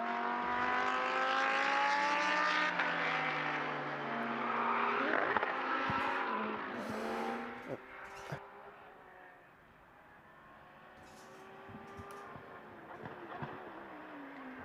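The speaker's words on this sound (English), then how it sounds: "battle for the lead in Porsche Cup between Cesar van der Westen and Lionel Rigaud, with Patrick Michelier in the UCS3 CMR Ferrari as well" Porsche Cup cars and a Ferrari GT race car at the Mugello circuit, their engines loud and close with harmonic whines at first, then fading into a quieter, more distant drone with occasional bursts.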